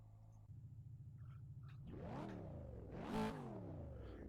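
A ZB Commodore supercar in a racing video game at Hidden Valley cranks and fires up, settling into a steady idle before two rising revs, the second louder, with the engine tone sweeping up and falling back.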